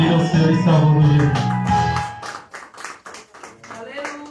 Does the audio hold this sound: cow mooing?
no